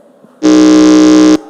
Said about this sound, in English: test your buzzers or your buzzer